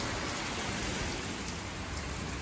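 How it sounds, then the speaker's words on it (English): Steady rain falls outdoors on a wet day, a dense even hiss of drops on surfaces, close and continuous with no voices. "So you can hear the rain."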